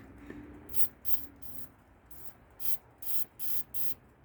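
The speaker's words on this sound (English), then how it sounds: "I want to spray this because I haven't done that yet with some penetrating oil, which is, this is just liquid wrench." Seven short hissing bursts of Liquid Wrench penetrating oil sprayed onto the master cylinder of a 1978 Honda Civic, quick and close, with brief pauses between them in a quiet garage.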